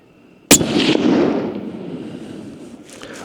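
A single scoped rifle fired at a 100-metre target on an outdoor range: one sharp, loud crack up close followed by a long rolling echo that fades over a few seconds.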